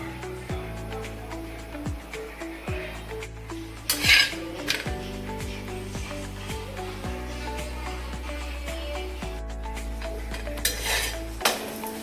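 A paratha set to roast on a pan over a gas stove, with repeated metallic clanks and scrapes of the utensil on the pan and a few brief louder rattles over a quiet background.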